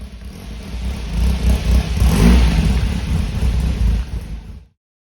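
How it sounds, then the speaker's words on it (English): An MG TF 1500 sports car engine fires and runs loudly and close, a rough steady rumble with a rise partway through, then cut off abruptly near the end. "It starts easily and runs well when cold, shown here on 2 occasions."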